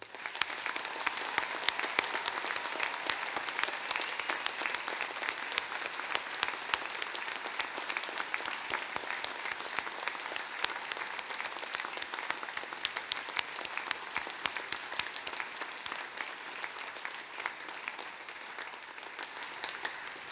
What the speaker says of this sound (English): let's start today's ceremony by giving all of our amazing graduates a huge round of applause